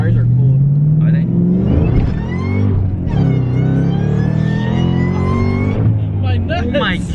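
A Ford Mustang Terminator Cobra accelerates hard on a test pull, its engine rising in pitch through the gears with a loud, close roar, while excited voices shout over it.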